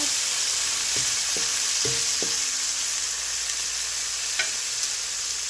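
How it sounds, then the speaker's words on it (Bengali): Masala for black chickpea bhuna is stir-fried in a pan: a constant loud hiss of sizzling, broken early by a handful of sharp spoon knocks against the pan, then a last lone tap, with no talking. "মশলাটা আর একটু কষানো হবে।"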